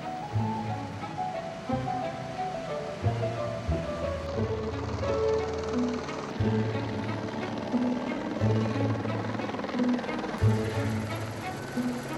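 A helicopter flies over dense, vegetated valleys, its rotor and engine giving a continuous rumbling wash that swells and fades at a moderate distance, mixed with rushing noise and no clear speech.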